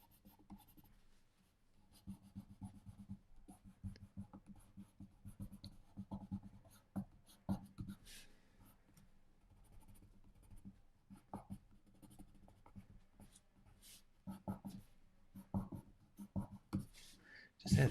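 A coloured pencil, an Iron Blue shade, scratches softly across paper while adding colour to a grey portrait drawing of Beethoven, in quiet, intermittent strokes that are sometimes quicker and sharper.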